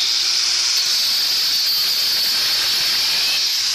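An angle grinder cuts through a 1/2-inch muffler tube, producing a loud, continuous high-pitched hiss and whine that stays close and steady from start to finish.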